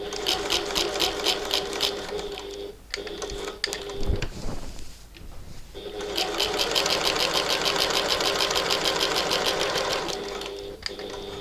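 A sewing machine stitches a bag gusset on foam interfacing in two loud, steady bursts of rapid needle chatter, with a brief pause around the middle as the work is pivoted.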